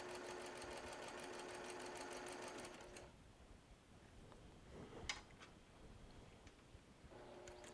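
A sewing machine stitching a log cabin quilt block along the bias, running in a fast steady buzz for about three seconds, then stopping with a few small clicks before briefly starting again, close and quiet.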